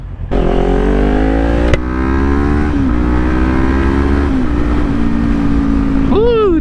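A Yamaha R6 sport bike cruises at highway speed, its engine holding a steady high whine with slight pitch shifts between gears, heavy wind rush underneath and a brief rising rev near the end.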